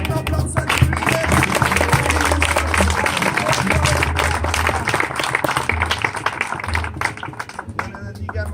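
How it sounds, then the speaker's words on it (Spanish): Church congregation at a Spanish-language baptism service applauding the worship leader, dense continuous clapping with crowd noise and low music underneath, steady and loud throughout. "Un aplauso al líder."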